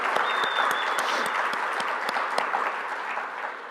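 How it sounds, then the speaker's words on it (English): Steady, dense applause from a conference audience at a foundation welcome address, filling the whole stretch at an even, fairly loud level with no voices over it. "Give her a round of applause."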